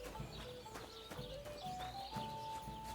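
Horse hooves clip-clop in the video game Kingdom Come Deliverance 2, a steady trotting rhythm of hoof strikes over a faint game soundscape with tonal background music.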